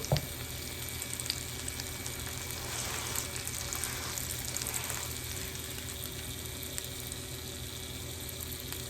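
Indian French toast frying in hot oil while pressed down in the pan, a steady close sizzle with fine crackling throughout and a brief scrape at the start.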